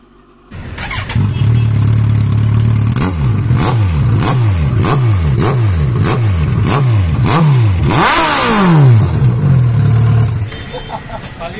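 Kawasaki Ninja 1000 motorcycle with a very loud aftermarket exhaust starts up and revs hard close by, a rapid series of sharp throttle blips climbing and falling before settling back to a rumbling idle.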